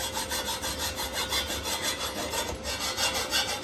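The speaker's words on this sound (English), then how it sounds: "With a file, but I don't want to take all the weld off" A hand file rasping over a weld on a tracked jeep, close and steady back-and-forth strokes in an even rhythm, about eight passes with nothing else heard.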